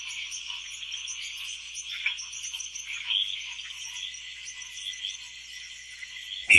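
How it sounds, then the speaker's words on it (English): A dense chorus of frogs calls steadily in the wild, a continuous high-pitched trilling with small swells and no pauses, ending in a brief louder burst. "He can identify and avoid poisonous frogs just by listening to their calls."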